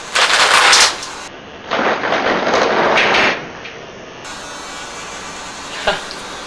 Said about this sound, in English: Let's see how fast this thing fires.